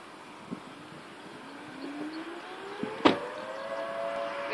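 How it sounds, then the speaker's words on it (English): A distant tornado warning siren near Caldwell, Kansas, slowly rises in pitch in a long wail over steady background noise, with one sharp click partway through. "There goes the siren. Tornado sirens."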